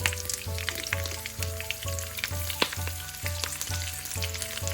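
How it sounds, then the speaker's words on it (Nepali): Cumin seeds, a green chili and a bay leaf crackle and sizzle steadily in hot oil in a pan, a close, continuous frying hiss with small pops and a regular low rhythmic pulse underneath. "मैले यसमा पुरा आधा सानो चम्चा जिरा, एउटा हरियो खुर्सानी, एउटा तेजपत्तालाई राखेँ"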